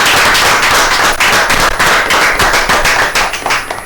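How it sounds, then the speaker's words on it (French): Loud, close, dense clapping from an audience cheering artists on stage at a gospel music performance, sustained and vigorous for the full stretch. "Applaudissements pour eux."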